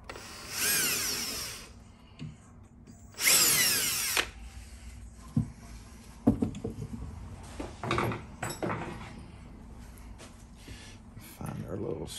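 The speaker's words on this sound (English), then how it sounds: "grab a little drill bit, mark our holes." A power drill whirs through holes in a prefab wood cabinet for cam locks, two close bursts of about a second each, followed by quieter handling knocks while someone talks.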